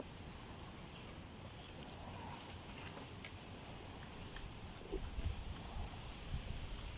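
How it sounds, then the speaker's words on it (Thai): Cold wind buffets an outdoor microphone in steady broadband rumble and hiss, with a few louder gusts near the end and no speech. "ลมเย็นหนาวมาอีกแล้"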